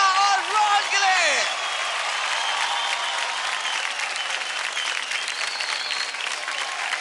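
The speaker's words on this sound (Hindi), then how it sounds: "जोरदार तालियां हो जाए" Sustained, dense applause from a studio audience at a televised children's dance competition, loud and steady for the full stretch, with a brief host voice at the start.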